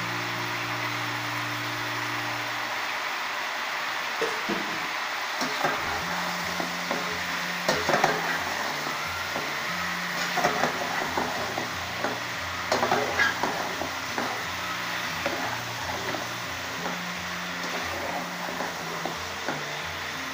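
Green chili and garlic fry in a pan with tomato, a soft continuous sizzle broken by occasional scraping stirs, with a low steady hum in the background.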